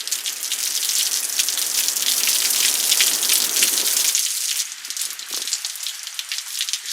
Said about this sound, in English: Man, it's been raining.